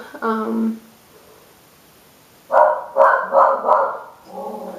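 A dog barks in a quick run of four sharp barks close by, with a person talking briefly before and after.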